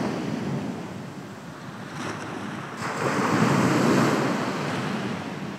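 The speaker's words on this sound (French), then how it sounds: "j'écoute le bruit des vagues" Surf waves wash onto a beach where surfers ride, a continuous soft roar that swells into a fuller breaking surge midway before easing again.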